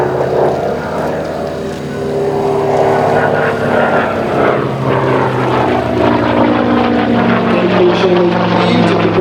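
A Sea Fury propeller fighter performs a Derry turn, its piston engine and propeller giving a loud, sustained roar that swells and shifts in pitch as it rolls past.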